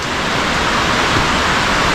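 Steady rain falls outdoors in a sawmill yard stacked with lumber edgings, a dense continuous hiss with no breaks, close and fairly loud with no voices.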